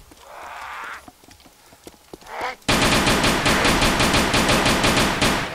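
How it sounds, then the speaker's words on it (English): In the video game DayZ, a few sharp isolated shots crack out before a sustained burst of rapid automatic gunfire erupts and continues loudly to the end. "your friend started shooting at me"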